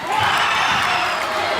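Home crowd at a girls' high school basketball game cheering loudly, a sustained roar of many voices in the gym that stays steady throughout.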